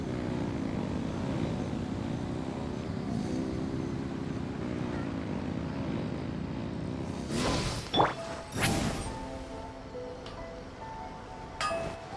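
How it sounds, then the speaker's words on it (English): Aircraft engines in a video game rev with a steady, loud droning roar throughout, broken near the end by a couple of sharp bursts and clinks. "Rev the engines!"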